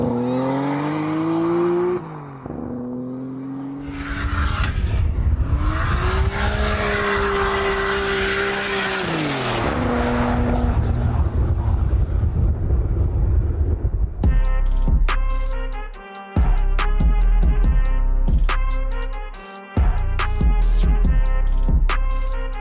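Nissan Skyline R32 GT-R with an H-pattern manual gearbox accelerating on a runway drag event, a loud close engine climbing in pitch through revs, with gear-change pauses and rapid harmonic sweeps, tire noise and no talk.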